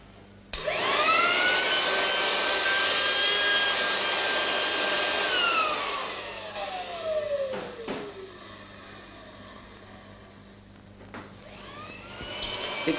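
Air from a blower rushes out around the edges of tin cans on a 1959 model hovercraft test rig, a loud steady whoosh with a falling motor whine that eases off, then short roars of air again near the end.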